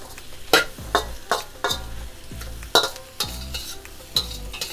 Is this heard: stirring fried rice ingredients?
yes